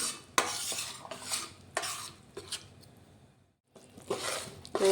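Flour roasting with ghee and jaggery in a pan over low heat for sukhdi, made with edible gum: a series of close scraping and clinking spoon strokes against the metal, in bursts separated by a brief silent gap.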